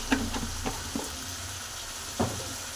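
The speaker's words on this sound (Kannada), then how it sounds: "ನಿಧಾನಕ್ಕಾಗಿ ನಾನು ಫ್ರೈನ ಮಾಡ್ಕೊತೀನಿ" Oil fries over a low flame for a fish curry, giving a soft continuous sizzle with several light clinks and stirring knocks scattered through it.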